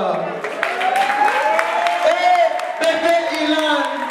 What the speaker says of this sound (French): Applaudissez pour bébé Ilan alors.